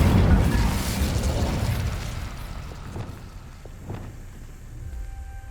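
Incendio fire spell cast in Hogwarts Legacy: a loud, rushing burst of flame at the start that settles into a lower crackling rumble, with a few faint pops later on.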